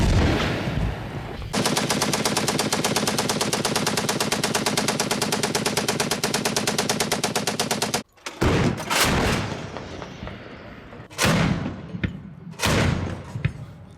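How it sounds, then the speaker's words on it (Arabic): Rifle gunfire in a night battle: a long, loud, rapid automatic burst runs steadily for several seconds, then breaks into separate heavy shots and shorter volleys with gaps between them. "تندلع المعركة وتعلو أصوات البنادق هدوء الليل"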